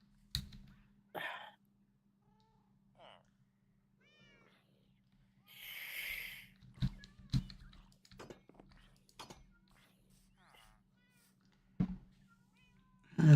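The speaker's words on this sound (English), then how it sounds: "Oh, cat." A cat gives several short, scattered meows at close range amid long quiet gaps, with soft clicks and bumps and a low steady hum underneath.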